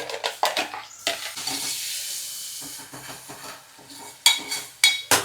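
Tomato and masala sautéing in a pan, with a steady sizzling hiss and several sharp spatula scrapes and clanks against the pan, the loudest near the end.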